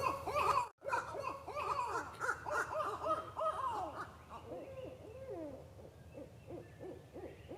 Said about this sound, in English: it has just an unlimited supply of weird sounds that it uses to communicate with other barred owls